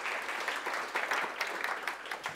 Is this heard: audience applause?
yes